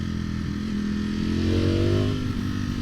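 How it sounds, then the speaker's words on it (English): A 2021 Ducati Streetfighter V4S motorcycle with its unmodified stock exhaust idles with a throaty low rumble, then revs up briefly and settles back down, close and steady. "that's a pretty good sounding exhaust for stock"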